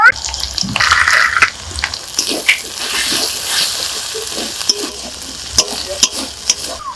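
Turmeric and chili powder frying with spices in a pan, a loud close sizzle with scraping stirs and spatula knocks against the metal, bursts of crackle rising and easing over several seconds.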